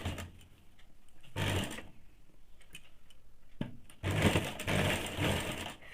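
A sewing machine stitches a high-neck blouse in short runs, its clicking mechanism ticking quietly between two louder whirring bursts, close and alone.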